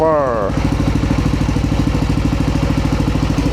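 A Yamaha Nmax 155 scooter fitted with an open Vmax Onyx muffler runs at a steady raised idle. It holds a loud, even, rapid exhaust pulse close by, and a voice briefly talks at the start.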